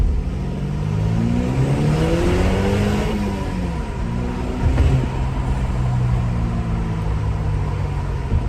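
A 2.0 TFSI turbocharged Audi A5 accelerating hard on a bridge, its engine note rising steadily in pitch through the gears with a rumbling, whirring drone heard from inside the car.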